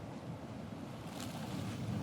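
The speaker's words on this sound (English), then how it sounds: "you listen to the sound of the ocean" Ocean waves washing onto a white sand shore: a continuous, moderately loud surf rush with a soft swell, mixed with faint wind noise and no voices.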